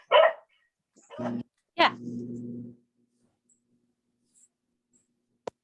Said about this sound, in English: Sorry, noisy dog.